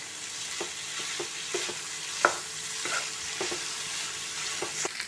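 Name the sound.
stirring chicken gizzard roast frying in coconut oil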